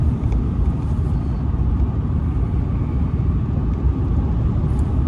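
Inside a new diesel truck cruising at about 62 on a road in northern Mexico, a dense low rumble of engine and road noise holds steady and even, with no talk.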